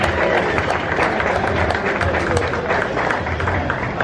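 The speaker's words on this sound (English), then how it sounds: "So let's give yourself a round of applause for everything you do." Crowd applause at the KennyKon gathering for Kennywood amusement park fans, a dense, steady wash of clapping with murmuring voices mixed in, loud and continuous throughout.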